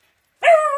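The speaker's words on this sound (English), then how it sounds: "I'm intercepting her before she starts barking again and makes us all go deaf" A dog gives a single loud, close bark, sharp and tonal, after a short silence, with no talking.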